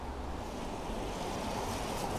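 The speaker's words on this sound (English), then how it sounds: "it's pouring down with rain now" Heavy rain pours down on a town street in Burslem, a dense, steady wash of noise that stays close and constant, with no voices heard.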